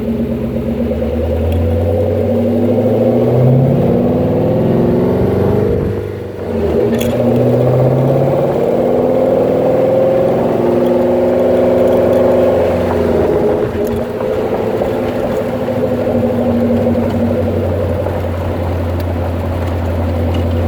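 A 1933 Ford Roadster Factory Five replica's engine drones steadily as the car drives at low speed through an industrial area, a loud continuous rumble that rises and falls with shifts, close to the microphone throughout.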